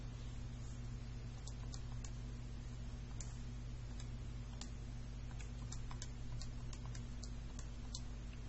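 Quick light taps of fingers entering numbers on a calculator, a series of soft irregular clicks close by, sitting over a steady low electrical hum in a quiet room.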